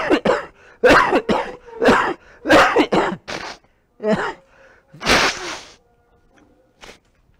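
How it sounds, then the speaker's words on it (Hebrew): A series of coughs and throat-clearing bursts from one person after a cold, close and fairly loud, coming in uneven clusters with short pauses and a few fainter coughs trailing off at the end. "זה שיעול"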